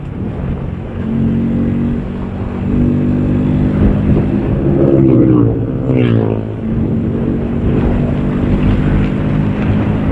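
Steady road rumble and engine drone ride beneath a motorbike trip through busy Sunday traffic, with passing vehicles swelling louder midway, a pitch sweep around six seconds, and no voices over the hum.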